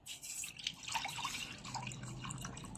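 Water splashing and trickling steadily into a small pot for precooking broccoli in a home kitchen, a continuous close-up liquid pour with no talking.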